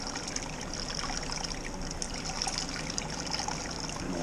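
Wort trickles steadily during vorlauf recirculation while a smoked rauch-style beer is brewed at home, a soft continuous dribbling of liquid, close and fairly faint, with no talk.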